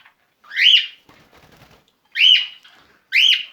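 Pet birds loose in an indoor bird room give three loud, close chirping calls, with a soft fluttering, rustling patch between the first two.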